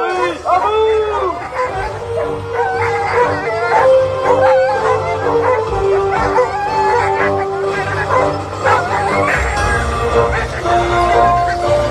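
Excited sled dogs bark, yip and howl in a dense, loud chorus at the start of a race, with an announcer talking over the constant canine din.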